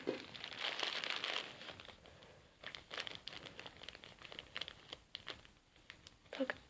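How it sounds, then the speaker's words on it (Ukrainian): Quiet, close crinkling and rustling of a plastic mailing bag being handled and torn open, in short irregular bursts. "Ну, відкриваємо. Ось просто е, від нової пошти пакетик."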